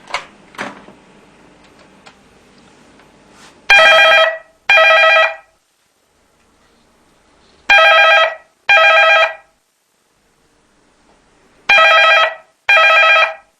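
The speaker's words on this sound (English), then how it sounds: "and then when the phone rings," An AlertA amplified loud telephone ringer bell rings in three paired bursts, each a harsh metallic double ring, loud and close with silent gaps between, after some faint handling noise at the start.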